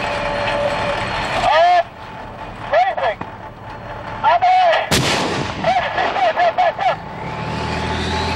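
Tank main guns fire practice rounds on a live fire gunnery range, with a few heavy booms rolling out over the range amid vehicle noise, while voices talk and call out through the engagement.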